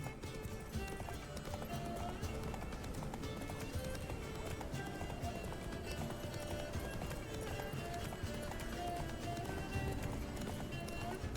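Roach, the horse in the video game The Witcher 3, gallops in a steady, rapid rhythm of clip-clopping hooves, faint and continuous under game music and ambience.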